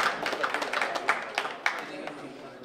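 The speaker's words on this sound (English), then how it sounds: "Yes, more applause, yes." Scattered applause and claps from a small audience at a campus pitch event, fairly faint and brief, with a few sharper individual claps standing out and a voice underneath.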